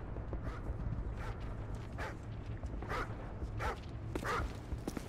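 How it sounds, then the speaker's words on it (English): Enemy attack dogs bark in Call of Duty MW3 survival mode, sharp yips and barks repeating irregularly over a constant rumbling game background, moderately loud. "enemy attack dogs are approaching your location"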